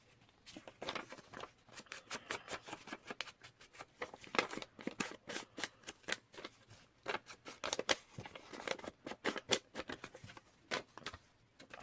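Scissors snip through junk-mail paper during journal card crafting, a rapid run of crisp cuts and rustles close to the microphone, irregular in rhythm with brief gaps.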